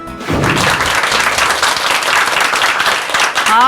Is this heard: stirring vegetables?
no